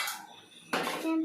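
A cooking pot, a chatti, clatters down onto a home kitchen stove with a sharp metallic clank, followed by a brief ringing resonance close by, with no talking.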